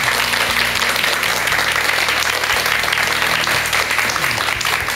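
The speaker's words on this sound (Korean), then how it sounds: "박사님께 큰 박수 좀 부탁드리겠습니다." Steady, loud clapping from a studio audience in a lecture-style talk show, continuous throughout, with low musical tones sounding underneath.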